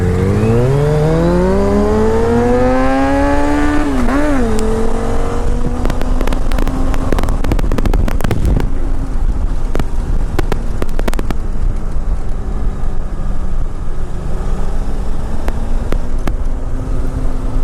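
A Triumph Speedmaster motorcycle engine revs hard as it climbs a mountain road, pitch sweeping up through several gears, then settles into a loud, steady close-up drone.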